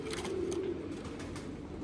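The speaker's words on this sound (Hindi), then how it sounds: "ओरिजिनल देवबंदी हमारे कबूतर हैं, इंडियन कबूतर हैं" Deobandi pigeons, original Indian birds kept by a fancier, coo softly in a low steady murmur, with a brief clearer coo standing out early among faint background bird sounds.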